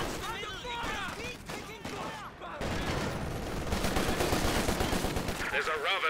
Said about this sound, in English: Trying to take on that machine gun frontally.